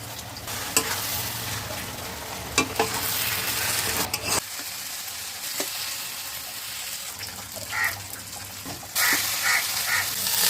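Onion and poppy seed paste with tomatoes, turmeric and ginger paste frying in a pan: a continuous close sizzle broken by scraping stirs and a few sharp knocks against the pan.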